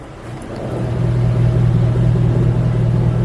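Car exhaust with an electric cutout open, a deep steady rumble that builds over the first second and then holds loud and close, with no talking.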